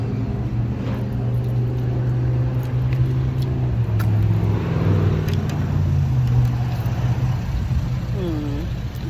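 Toyota Camry on a test drive, engine humming steadily inside the cabin with shifting tonal whine as it moves, a brief rising chirp near the end, no clear talk.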